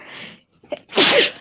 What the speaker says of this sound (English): I don't know why I'm sneezing so much tonight.